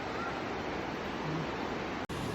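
Mountain stream water rushing steadily down toward a river on the trail from Lukla to Phakding in the Everest region, a constant broadband roar close by with no break until a brief cut near the end.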